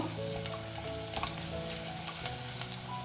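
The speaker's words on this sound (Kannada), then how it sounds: "ಕೊಬ್ಬರಿನ ಹಾಕೊಳ್ತಾ ಇದ್ದೀನಿ ಇದನ್ನು ಕೂಡ ಚೆನ್ನಾಗಿ ಫ್ರೈ ಮಾಡ್ಕೋಬೇಕು" Garlic, ginger and grated coconut fry in a pan for a sprouted-bean breakfast dish, giving a continuous near sizzle with scattered clicks of stirring, alone and fairly quiet.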